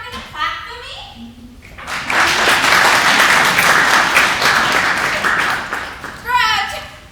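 At a drama club dinner theater staging of A Christmas Carol, the audience claps for about four seconds of full, close applause between stretches of a performer speaking before and after.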